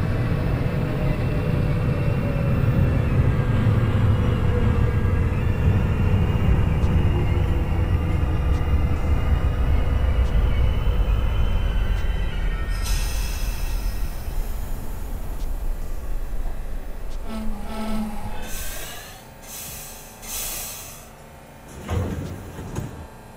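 A New York City subway train, a 6 train, rumbles loudly as it enters the 33rd Street station. Its roar fades and gives way to a few short clanks and door-like thuds near the end, with no talk.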